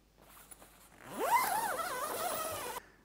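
A zip on a Gelert Ottawa tent door is pulled shut in one steady, close rasping stroke lasting about two seconds, with nothing else heard.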